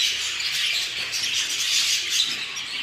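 Budgerigar chicks chirping after being fed, a dense, continuous chorus of high, thin peeps and squeaks that stays close and steady throughout.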